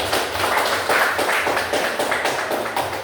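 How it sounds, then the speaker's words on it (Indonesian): A classroom of students claps for a group presentation in a religious education lesson, a loud, close, continuous patter of many hands with slight rhythmic pulses and no speech over it. "Mari kita beri tepuk tangan."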